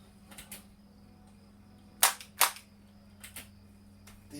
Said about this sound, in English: The recoil works off of a solenoid and a capacitor inside